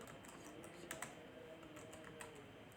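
Faint, scattered keystrokes on a computer keyboard tap out at an irregular pace in a quiet room.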